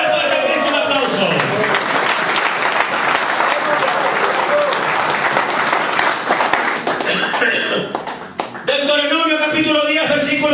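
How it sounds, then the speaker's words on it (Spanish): A church congregation claps loudly and continuously in a dense, close wave of applause that dips near the end before a brief final burst, with voices mingled in. "Dale fuerte a Cristo un aplauso."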